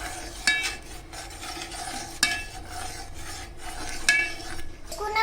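A spoon stirs a gram flour mixture in a pot for Bombay chutney, making steady rasping, scraping strokes close up, with a few sharper clinks against the pan.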